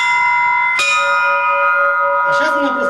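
Church bells ring loud and close in a fast rhythmic peal, one sharp strike launching a bright sustained tone that hangs on, with another voice or bell stirring near the end.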